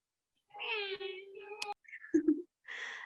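A few short meows, close and fairly faint, separated by brief pauses; the cries may come from a person imitating a cat.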